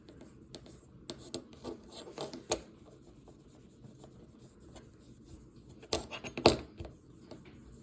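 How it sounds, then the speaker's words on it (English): A rubbing-alcohol-soaked cleaning patch scrubbed along the stainless steel liners of an OKC RAT1 folding knife, heard as quiet, close, scratchy rubbing strokes in irregular bursts, louder near the end. "that's doing a proper job of cleaning up these stainless steel liners"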